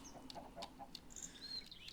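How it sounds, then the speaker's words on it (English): Chickens clucking in the Minecraft video game, several soft, scattered bird calls and clucks spread across the clip at a modest distance, with no talk. "Yeah, I have chickens."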